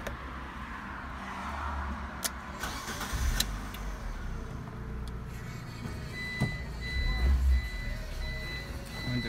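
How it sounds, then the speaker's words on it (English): A Fiat 500 cranks and starts after an emergency start through the OBD port, with a steady idle rumble afterwards and electronic beeps or tones over it, close by. "turn ignition on and then start the car in 3 seconds"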